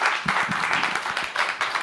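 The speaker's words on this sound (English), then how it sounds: "Give yourselves a warm round of applause." An audience claps steadily after a panel discussion on free expression at an embassy event, a dense and fairly loud round of applause heard close up.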